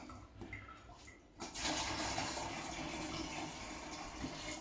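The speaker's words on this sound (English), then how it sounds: "So we'll put a couple of pints of hot water. It's okay out the tap." Hot water gushing from a household tap for cider making, starting after a quieter moment and then running steadily and fairly close.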